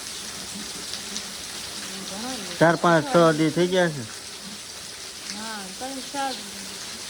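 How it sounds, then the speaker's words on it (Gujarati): Steady hiss of rain falling throughout, with a person speaking briefly over it midway and again softly near the end. "વરસાદ સારો આવે છે"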